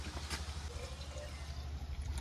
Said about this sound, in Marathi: पाणी भरून देते आता बाटलीत पोरींना.